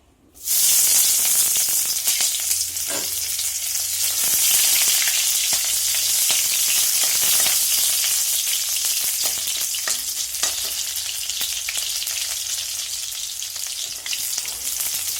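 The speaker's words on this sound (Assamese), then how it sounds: "তেলখিনি গৰম হ'ল এতিয়া দিম পিঁয়াজ" Onions hit hot oil in a wok and burst into a loud sizzle, then a sustained close frying hiss with light stirring scrapes for the rest of the stretch, no voices.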